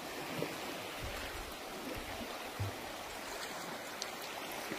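Floodwater rushes and churns in a steady, broad roar, continuous and fairly close, with no voices over it.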